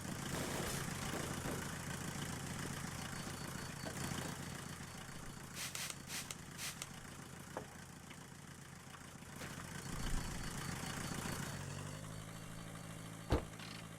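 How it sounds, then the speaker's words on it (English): A car engine idling in the video game The Long Drive, a steady low hum and drone running for the whole stretch with a soft knock near the end, with no talk. "I'm currently yelling over the engine noise."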